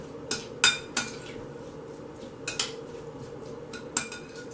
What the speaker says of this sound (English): Then we mix it nicely together.